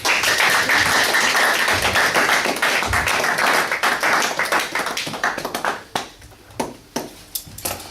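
A church congregation at a Sunday service applauding together, a dense, loud wash of clapping that thins out into a few scattered, separate claps near the end.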